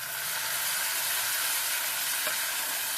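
Garam masala and mixed spice masala frying in a pan give off a steady, close, even sizzle that holds at the same level throughout, with no voices.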